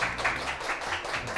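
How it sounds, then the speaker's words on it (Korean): Studio audience clapping to welcome the company CEO guest onto a Korean lecture show stage, a steady dense patter of many hands at moderate level with no talk over it. "심상홍 대표님을 큰 박수로 모셔볼게요"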